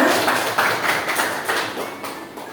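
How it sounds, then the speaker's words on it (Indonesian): An audience claps for Bapak Sutomo at a morning school event on positive school culture: steady, dense applause from many hands, fairly loud and sustained throughout, with no voices over it. "Tepuk tangan dulu buat Bapak Sutomo SPD."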